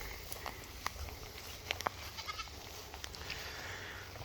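Goats, including young kid goats, being moved to fresh pasture; faint, brief bleats and calls rise sporadically out of a noisy outdoor background with wind and rustling.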